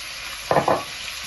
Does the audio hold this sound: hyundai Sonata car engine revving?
no